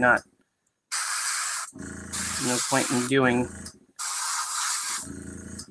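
Airbrush spraying paint onto an upside-down miniature model, heard as three sustained bursts of airy hiss separated by short pauses, with a voice talking over the middle burst.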